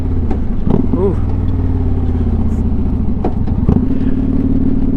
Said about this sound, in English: Let's get a couple downshifts.